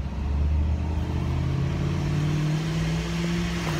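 Pool equipment machinery running on an outdoor machine platform, a loud, steady mechanical rumble and hum that holds without a break.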